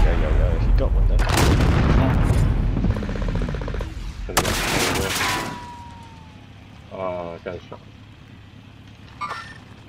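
Gunfire from Call of Duty: Modern Warfare: heavy, booming bursts of shots dominate the opening seconds, then sparser, quieter shots and a whizzing sound follow, with players talking over the action.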